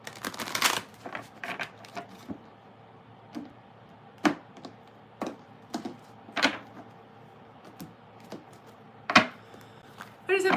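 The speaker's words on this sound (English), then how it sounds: "I just have to shuffle for like a half an hour." Tarot cards being shuffled by hand, producing intermittent crisp riffles and clicking taps, spaced irregularly against a quiet room.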